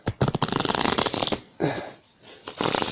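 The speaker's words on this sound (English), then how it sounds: "I like to shuffle the cards so everybody can see it," Cards are shuffled close up for a card reading, a dense run of rapid riffling snaps followed by softer sliding rustles and a second burst of shuffling, with no voices.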